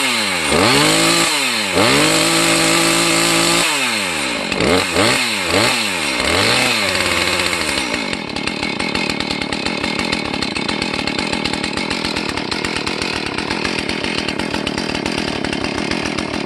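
A Husqvarna 450 Rancher chainsaw engine, just restarted after fuel system work, sputters through a few uneven pulls and revs before settling into a steady, loud, close idle with no talking.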